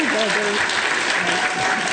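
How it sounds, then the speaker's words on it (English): An awards-ceremony audience applauds an honoree, dense steady clapping throughout, with voices and other tonal sounds threaded over it. "Let's give a warm applause to Helene Davis."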